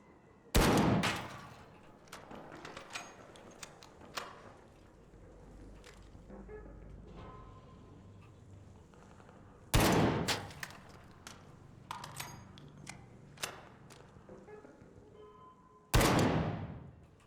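Gunfire rings out in ARC Raiders as a few loud, sharp shots arrive several seconds apart over quieter clicks, thumps and background game noise.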